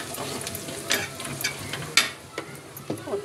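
Fried onions with turmeric stirred in a pan, a steady close sizzle broken by scraping spoon strokes and light clinks, with no talking.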